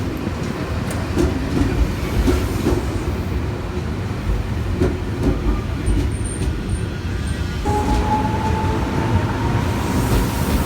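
A train departing Gambir station in Jakarta rumbles steadily along the rails with a continuous low roar and faint rhythmic clatter, heard from inside or close by, no voices.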